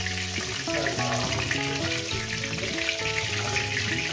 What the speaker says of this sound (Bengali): বাদ বাকি মাছের মাথা একেবারে ভেজে নিয়ে আমি তুলে নেব